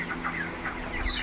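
Broiler chickens cluck in a poultry shed. A quick series of soft, close clucks rises over a steady background hum, with no talking.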